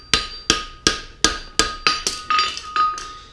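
A steel horseshoe being forged on an anvil, struck by a hammer in a steady series of about nine loud, ringing metallic blows, close and clear with no talking.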